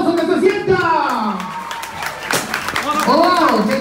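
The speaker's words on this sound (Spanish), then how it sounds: "¡Fuerte el aplauso, que se sienta!" Audience at a community school-supplies handout event in Santa Marta gives modest applause with some cheering, scattered claps running beneath a loud voice talking over the crowd.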